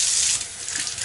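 Warm tap water runs steadily from a faucet while felted slippers are rinsed under it, a continuous close hiss and splash with no talk.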